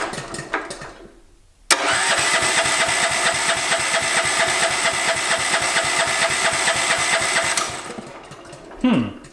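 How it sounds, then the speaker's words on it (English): Close and loud, a homemade Formula One car's engine cranks on its starter for about six seconds, a rapid rhythmic chugging that never catches and then stops, with brief faint sounds before and after. "if we did this correctly, the engine should turn over."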